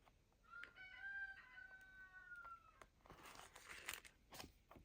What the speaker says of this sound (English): can you hear the chickens and rooster?